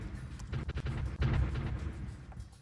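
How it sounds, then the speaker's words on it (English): A gun emplacement and artillery pieces fire in a strategy war game, a rapid run of booming shots giving way to a heavier, rumbling barrage that lingers. "now that we got the gun emplacement, that's also doing some firing"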